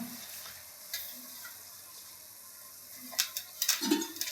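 Turmeric stirred into a besan and chilli kadhi base for Punjabi dhaba-style kadhi, faint spoon scrapes and soft clinks against the pot, growing into a few louder scraping strokes near the end.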